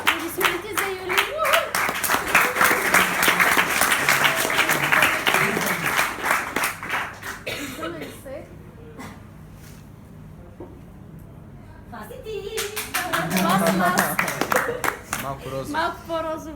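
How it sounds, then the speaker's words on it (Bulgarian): Audience clapping at a training event, loud dense applause with voices over it, fading to a quieter lull with talk before a second burst of clapping rises again. "Аплодисменти за Юли."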